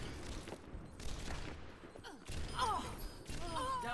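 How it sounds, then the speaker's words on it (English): Gunfire in an online shooter game, bursts of rapid distant shots and thuds with a few electronic whistling effects, mixed with scattered game sounds and a faint voice. "He missed so many shots on me."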